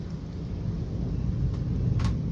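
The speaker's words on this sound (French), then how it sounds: "Parce que l'orage il est stationnaire donc s'il y en a un qui tombe il va retomber juste à côté." Thunder from a stationary storm over Bordeaux on 13 August 2025: a continuous deep, heavy rumble fills the whole stretch, loud and close, with no voices.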